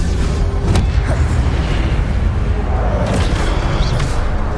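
Fire-spell casting effects in the video game Hogwarts Legacy: low rumbling booms with a couple of brief whooshing bursts, steady and moderately loud, with no speech.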